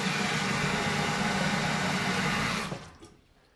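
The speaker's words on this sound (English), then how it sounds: "And then I'm going to fill it up with water." Water pours into a glass-tumbling barrel as a dense, steady rushing gush that stops abruptly near the end, leaving a few faint drips and trickles.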